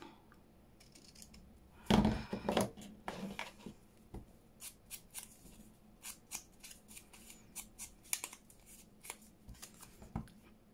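Scissors trim paper for a junk journal in a quiet room: a burst of quick crisp snips and rustling paper early on, then scattered short cuts and handling sounds, close but soft, with no talking.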